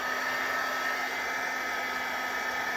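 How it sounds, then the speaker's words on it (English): A heat gun drying glue on a craft tag: a loud, steady whirring blow with a constant high whine, close and uninterrupted throughout. "So I'm gonna just take my heat gun a little bit"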